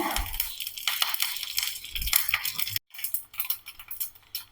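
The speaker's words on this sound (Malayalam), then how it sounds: "കടുക്ക ഏകദേശം ദേ പൊട്ടിയിട്ടോ" Rapid crackling and sharp pops close up of mustard seeds bursting in hot oil with dried chillies and curry leaves, with a brief drop-out before the popping resumes.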